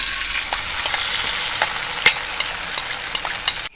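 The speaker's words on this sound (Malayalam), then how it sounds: "പിന്നെ കുറച്ച് ഓയിൽ മുട്ട ഒഴിച്ചു കൊടുക്കുക." An egg fries in oil in a pan with onion and salt, giving a steady close sizzle broken by scattered pops and crackles, with no talking.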